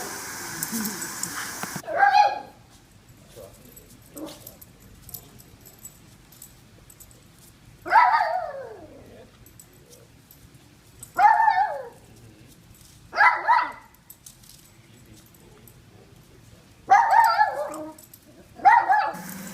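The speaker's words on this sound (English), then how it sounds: "Ever since Ireland was a puppy, her favorite thing was to spin in circles around and around and around she'd go." A dog whimpers and gives short yelping barks in several separate bursts spaced a few seconds apart, close and fairly clear against a quiet room.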